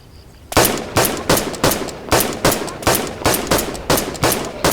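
Rifle gunfire in the zombie game The Last Stand: Aftermath, a loud, close string of about a dozen sharp shots fired at a steady, rapid rhythm after a brief quiet start.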